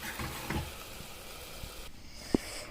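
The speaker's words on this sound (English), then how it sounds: "I will now add the chana to it and I will fry it further." Black chana frying in masala in a pan, giving a soft, steady sizzle with a few light stirring clinks, fairly quiet and close.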